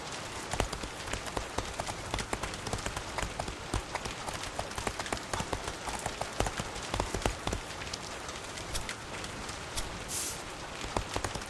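Horse hooves clip-clopping at a steady trot in the crafting game The Faraway Land, a continuous rapid patter of hoofbeats, close and fairly quiet, running throughout without talk.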